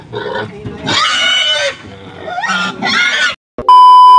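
Pigs grunt and squeal loudly at close range in a stockyard, with several harsh bursts of varying length, a short silence, then a steady electronic tone.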